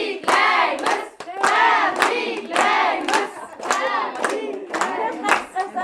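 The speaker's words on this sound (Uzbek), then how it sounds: "Qarsaklar bilan kayfiyatni ko'tarib, qo'llab-quvvatlab qo'yamiz." Sustained clapping from a gathered crowd applauding a mother at her 69th birthday celebration, loud and continuous with rhythmic bursts throughout, some cheering mixed in.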